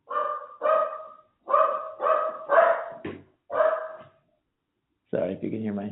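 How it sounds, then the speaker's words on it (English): A pet dog barks in the background of a home during an online interview, giving about six loud, close barks in short bursts before a voice speaks briefly at the end. "Sorry if you can hear my dog barking in the background."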